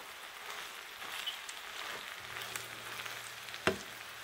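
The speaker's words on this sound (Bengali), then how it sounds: "আবারও ভালো করে মিশিয়ে নিচ্ছি।" Doner kebab biryani with coriander leaves stirred in a pan over a low flame, with a soft continuous sizzle, light scraping and one sharp knock near the end; no one speaks.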